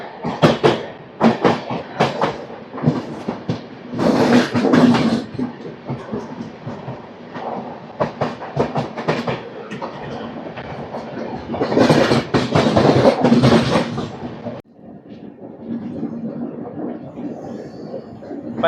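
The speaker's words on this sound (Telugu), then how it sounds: "ఏదో ట్రైన్ అయితే వస్తుంది, చూద్దాం వ్యాప్ సౌండ్ లోకోతో." Passenger train hauled by a WAP electric locomotive passing through Cherlapalli station near Secunderabad: loud, sustained rumble with rhythmic clickety-clack of wheels over rail joints, swelling and fading before a sudden drop to quieter ambience.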